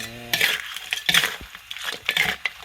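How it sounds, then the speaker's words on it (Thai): Stir-fried field crab with curry powder and pepper being stirred in a pan, uneven scraping and clinking strokes of a utensil against metal with a light sizzle underneath, close and fairly loud, with no talking. "พริกไทยคนให้เข้ากัน"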